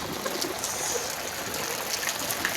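Rain falling steadily on a rainy day in Phuentsholing, a continuous dense hiss and patter with some trickling water, even and close, with no voices.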